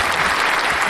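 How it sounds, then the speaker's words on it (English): Audience applause, a brief, loud, dense burst of many hands clapping with no gaps, heard alone. "round of applause, Carter"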